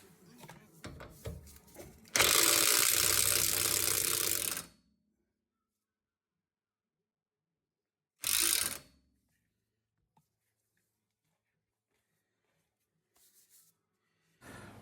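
A ratchet turning an 18mm socket on a rear shock absorber bolt of a Rover 75/MG ZT suspension, a close burst of rapid clicking for a couple of seconds, a short second burst later, silence between.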